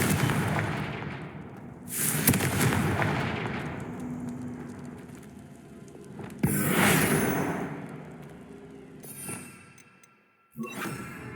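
In the game Hogwarts Legacy, the Confringo blasting spell bursts in a string of booming explosive blasts with rumbling tails, and a sharp final crack follows a brief drop to near silence.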